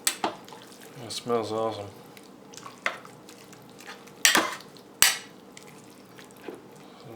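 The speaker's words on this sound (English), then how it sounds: "Give them a quick stir." Spoon stirring slow-cooked mixed greens with salt pork in a pot, soft scraping and clinking knocks scattered through the clip, a couple of sharper clanks, with a person speaking briefly.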